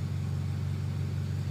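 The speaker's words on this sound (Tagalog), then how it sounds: "Ayun, tahimik naman na yung makina." A Honda hatchback engine idles quietly and steadily after a valve seal repair, giving a smooth, even low hum close to the mic with no other sounds.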